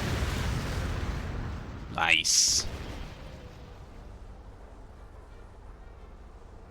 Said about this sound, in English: And look at those beautiful heavy explosions.